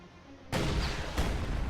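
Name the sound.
Raketenwerfer gun firing in a video game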